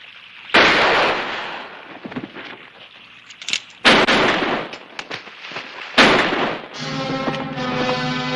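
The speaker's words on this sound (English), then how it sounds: "I said shoot them." Gunshots ring out in a western, three sharp loud blasts spaced a couple of seconds apart, each followed by a decaying echo, the last trailing into a tonal ring.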